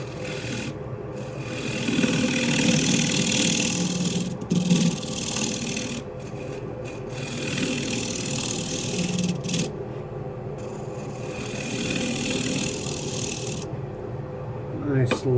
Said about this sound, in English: Nice light scrape.